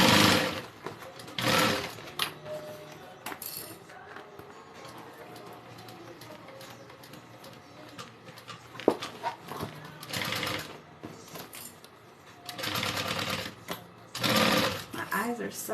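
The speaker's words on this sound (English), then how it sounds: "Alright, so I'm going to sew and turn." A home sewing machine stitches a backpack in several loud bursts of rapid whirring separated by pauses, with a person talking between and over the runs.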